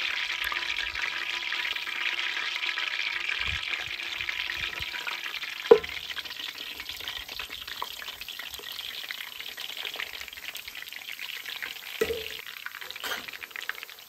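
Funnel cake batter frying in hot oil, a steady broadband sizzle running throughout with a sharp clink near the middle and a few light utensil knocks; no one speaks.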